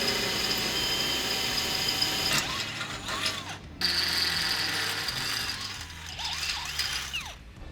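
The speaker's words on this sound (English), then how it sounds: "So we're gonna go ahead and drill that now." Drill boring holes through the steel frame of a lowered 1960s–70s Chevrolet C-10 pickup in a shop, a steady whirring grind that runs several seconds, briefly stops, then resumes.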